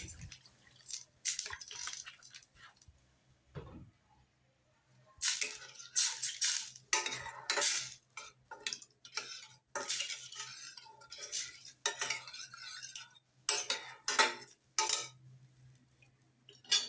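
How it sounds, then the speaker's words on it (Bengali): A spatula stirs spicy butter catfish curry (pabda fish) in a pan, giving repeated scraping and clinking bursts in an irregular rhythm, close and moderately loud, with no talking. "একটু ভালোভাবে মিশিয়ে নেব"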